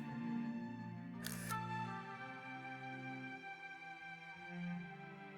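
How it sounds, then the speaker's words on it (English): Camera shutter click in the visual novel Maitetsu, a single sharp snap heard over soft sustained background music. "So I click the shutter one more time"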